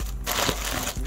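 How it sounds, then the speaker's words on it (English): Wrapping paper on a parcel box from an online shopping haul, crinkling and crushing close up in a brief, loud rustle with a couple of sharper crackles. "Got all the nice wrapping paper and all that on it."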